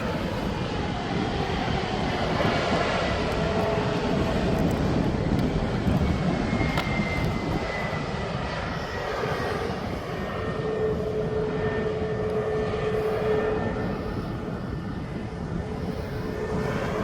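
Jet airliner taking off from Birmingham Airport, bound for Tenerife: a broad, steady engine roar that holds at moderate distance for the whole stretch, with no one talking.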